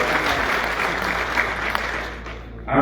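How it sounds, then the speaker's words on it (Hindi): An audience claps steadily at a university convocation ceremony in Uttarakhand, a broad sustained wave of applause that thins slightly and fades out near the end. "एक ताली हो जाए उनके"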